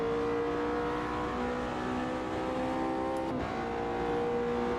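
Race car engine in the sim racing game Automobilista 2, a steady, droning, tonal engine note held at constant pitch with a brief dip near the end as the car shifts or lifts off.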